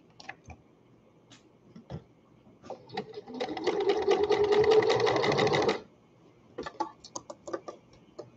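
A sewing machine stitches a seam on skirted baby bummies, a rapid continuous run of needle clatter lasting a couple of seconds, framed by quieter clicks and handling of fabric before and after.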